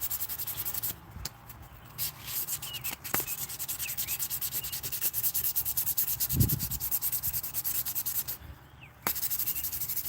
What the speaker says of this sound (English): I was sanding like crazy